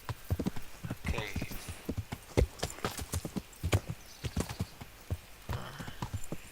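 Horse hooves clip-clopping in the Kingdom Come: Deliverance video game, a steady quick rhythm of close hoof strikes with a brief neigh, faint voices murmuring underneath.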